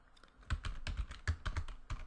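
Rapid typing on a computer keyboard while Java code is entered, a close, steady run of clicky keystrokes in short bursts with no talk.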